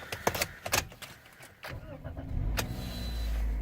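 The engine of a 2018 Toyota Corolla LE is started after some clicks and key rattles, cranking briefly and then settling into a low, steady idle heard from inside the car.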